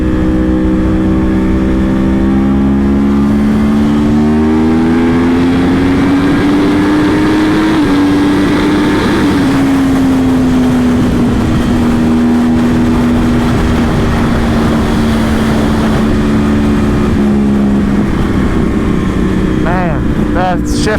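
Yamaha R1 crossplane motorcycle engine revving up steadily at close range, with rising and falling pitch as it shifts through gears, a loud continuous roar throughout.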